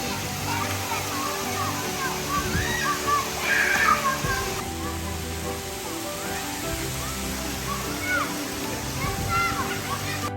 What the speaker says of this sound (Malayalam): മഴ മാത്രമല്ല, മഴയോടൊപ്പം ശക്തമായ കാറ്റുമുണ്ടായിരുന്നു.